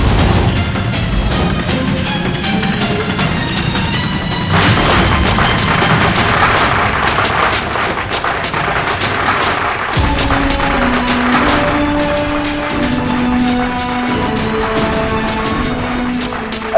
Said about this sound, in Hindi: अरे घर के अंदर पटाखे कौन जला रहा भाई?